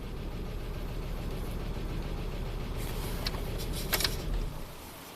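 A Ram Hemi engine with a misfire at 300k miles idles close by in a low, uneven rumble with a faintly irregular beat, and a few light metallic clinks come near the end before it drops away.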